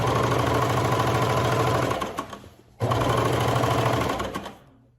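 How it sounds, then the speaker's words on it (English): A sewing machine top stitches the side seam of flare leggings, running loud and close in two long steady bursts with a short slowdown between them before winding down. "if you are top stitching, now's your chance to top stitch along the side seam"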